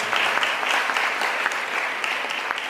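Audience applause at a United Nations Day event in a high school, a steady dense wash of many hands clapping close and alone, holding even throughout.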